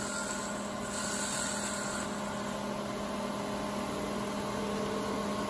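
A wood lathe spins a spinning-top blank in a workshop, giving a steady, continuous motor hum and whir with a faint high tone, running alone and unchanging throughout.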